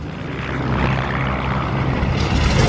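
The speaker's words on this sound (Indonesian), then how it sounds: "Akhirnya Mikhail berhasil menerbangkan pesawat itu" A WWII-era airplane engine drones during a takeoff scene in a war film, a loud, steady, close roar that builds slightly, with no voices over it.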